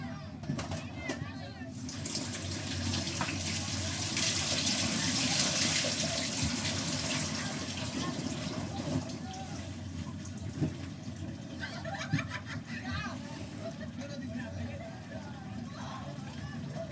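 Water gushes steadily into a boat swamped by heavy rain, a loud, close continuous pouring and splashing that swells and eases over several seconds, with people talking over it.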